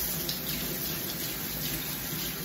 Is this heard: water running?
yes